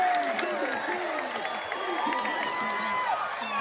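The home crowd at a high school football game between the La Quinta Blackhawks and Central Spartans cheers and claps after a big play. A broadcast commentator talks over the steady roar throughout.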